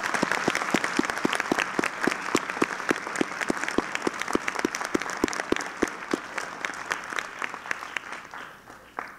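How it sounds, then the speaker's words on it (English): Sustained applause for mayoral candidates at a school debate event: an audience claps steadily and briskly with crisp individual claps for about eight seconds before it thins out and fades. "Let's give our mayoral candidates one more round of applause."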